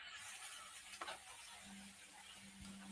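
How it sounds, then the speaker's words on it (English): Steady sizzling of food frying in a pan, a continuous crackling hiss with a brief stir or clatter near the middle, heard alone without talk. "Hear the sizzle."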